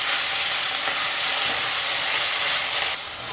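Fenugreek leaves cooking in a pan for a tangy fenugreek pickle, a loud, steady hissing sizzle with faint stirring that drops off slightly near the end.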